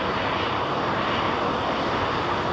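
An airliner taking off at London Heathrow Airport, heard close up as a loud, steady broadband jet roar that holds at full strength throughout with no voices.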